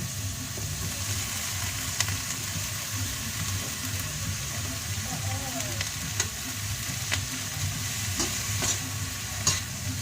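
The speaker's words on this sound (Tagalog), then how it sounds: "Haluin natin." Vegetables and shrimp fry in a pan while being stirred for a Christmas pancit. The sizzle is steady, with occasional soft scraping taps from the stirring.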